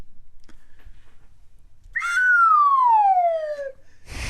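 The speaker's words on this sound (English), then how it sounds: "which is an absolute downslide on the slide whistle" A slide whistle plays one long, smooth downward glide, bright and clear, lasting nearly two seconds after a quiet stretch, then a short burst of noise.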